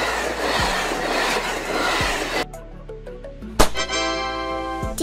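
A diesel train rolls past nearby with rumbling, rattling noise that gives way midway to a tonal engine drone with rising and falling pitches, fairly loud throughout.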